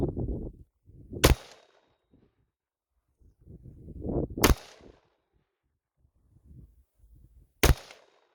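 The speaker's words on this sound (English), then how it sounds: "that is my first shots with the Desert Tech MDRX." A Desert Tech MDRX bullpup rifle fires three loud, sharp shots spaced about three seconds apart outdoors. Faint low rustling and handling noise fill the gaps between shots.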